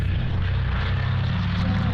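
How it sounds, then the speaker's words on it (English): A Canadian Douglas DC-3, originally built as a C-47, flying on propeller power: a loud, steady, rumbling engine and propeller drone with no break, close and continuous throughout. "Canadian DC-3 Charlie Foxtrot Delta Tango Delta flew for the first time in nearly 30 years."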